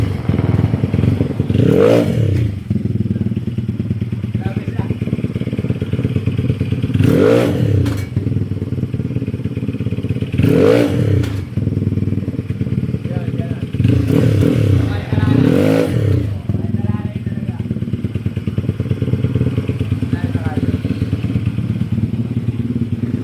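A Mio 125 motorcycle converted to 246cc with a Sniper head and block, on a stock-gear test ride, growls with an even engine drone and several louder rising revs spaced a few seconds apart.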